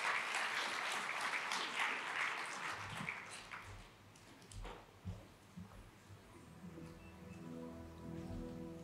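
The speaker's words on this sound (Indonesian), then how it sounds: "Beri tepuk tangan buat Allah kita." A church congregation applauds, a dense burst of clapping that is loud at first, then thins and fades as a low instrumental or voice murmur comes in underneath.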